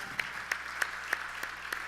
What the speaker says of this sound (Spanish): Dale un aplauso al Señor o algo, ¿no?